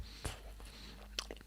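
Crunchy chocolate snack chewed close to the mic, with a few soft crunches and moist mouth sounds in a quiet room.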